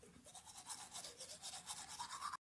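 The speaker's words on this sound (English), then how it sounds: "I will make you clean my toilet with only your spit and a toothbrush." A toothbrush scrubs a toilet in fast, rhythmic back-and-forth strokes, a close, steady bristly rasping that runs without pause and then cuts off abruptly.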